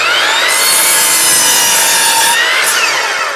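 A handsaw cuts through the end of a wooden board for a sawbuck, with steady, continuous back-and-forth rasping strokes that are loud and close and carry no talk.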